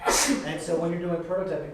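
A single sharp sneeze bursts out at the very start, loud and close, and a person immediately carries on talking right after it.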